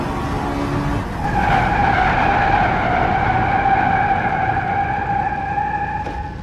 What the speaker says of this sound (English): Honda brake test.